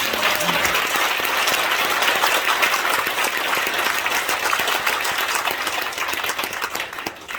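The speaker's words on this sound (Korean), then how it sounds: "목사님들께서 우리 서명 사모님을 위해서 격려의 박수 한번 뜨겁게 해주시기 바랍니다" Elder pastors at an Easter gathering applaud warmly, a loud continuous round of clapping that tapers slightly toward the end.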